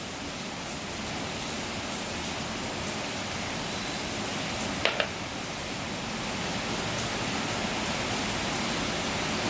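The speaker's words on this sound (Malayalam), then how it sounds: "നല്ല മഴ പറയുമ്പോൾ നല്ല പെരും മഴയാണേ കേട്ടോ ഗായ്സ്." Heavy rain pouring steadily outside a home, a dense unbroken hiss that stays loud throughout, with one or two faint clicks partway through.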